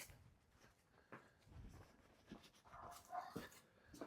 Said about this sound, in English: That dog is a barker now.